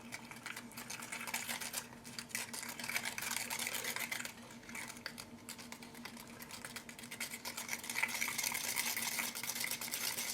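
A separated mud craft paint is stirred inside its container, a continuous close scraping and swishing that speeds up and grows louder toward the end.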